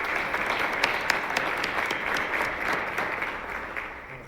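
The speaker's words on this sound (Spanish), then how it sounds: "darte un gran aplauso desde la sala" A room of breakfast-event attendees applauds steadily, a dense, even wash of clapping at moderate distance, holding for a few seconds without speech.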